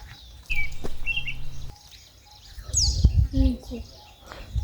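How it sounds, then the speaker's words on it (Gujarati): Several birds chirp and tweet in short, scattered calls over a low outdoor rumble, some near and some farther away, at a quiet temple area near Una, Gujarat. "અવાજ આવે ને તો પશુ પક્ષી પંખીના કલબલાટનો જ અવાજ આવે છે"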